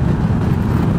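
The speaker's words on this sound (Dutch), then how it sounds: "Hier, daar heb je de muscle cars al." An American muscle car passes at the TT Assen circuit during an American Sunday event. Its engine is a loud, steady low rumble that holds at a constant level through the short moment, with traffic noise around it.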